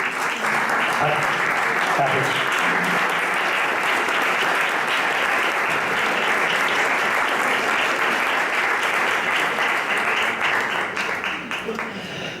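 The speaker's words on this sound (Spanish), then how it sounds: "aplaudimos a ellas" Sustained audience applause fills the room after a talk on poetry, a dense steady wash of clapping lasting the whole stretch with a brief spoken thanks underneath.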